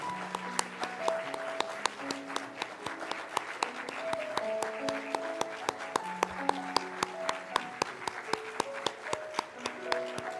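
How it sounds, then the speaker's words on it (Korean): A church congregation applauds at a Presbyterian retirement ceremony for church officers, with steady, sharp claps spread through a large room. Soft organ-like sustained tones play underneath and the clapping stays moderately faint. "여러분 힘차게 박수로 축하해 주시기 바랍니다"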